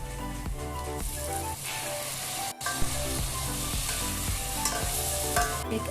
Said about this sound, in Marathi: कांदा बघा मस्त असा गुलाबी झाला आहे ह्याच्यामध्ये टॅमॅटो पण घालून घेते